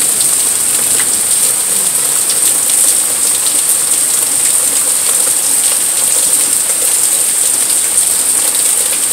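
Rain falls steadily in a dense, even hiss, constant and fairly loud with no pauses or voices.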